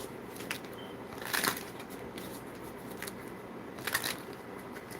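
Tarot cards are shuffled by hand during a live reading, two short crisp riffling bursts a couple of seconds apart over a faint steady background hiss, with no talk.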